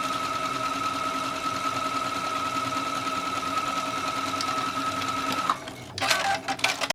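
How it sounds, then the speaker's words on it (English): Sewing machine stitching a fabric seam on a shirred tube piece, a steady whirring run held for about five seconds before stopping abruptly, followed by brief handling clatter. "I'm simply just going to sew it close."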